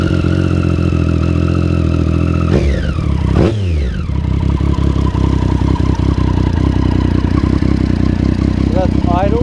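Motorcycle exhaust idling during a decibel test comparing a stock exhaust with a Dominator slip-on, a loud close steady idle with a brief sharp rev and falling pitch sweep early on, then a continuous chugging idle.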